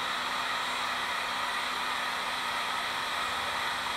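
Heat gun blasting steadily while warming part of a metal tent stake for powder coating, a constant loud airy roar with a faint motor hum underneath, unbroken throughout and no speech.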